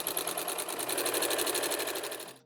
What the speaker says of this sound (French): Et je poursuis ma couture jusqu'à mon épingle.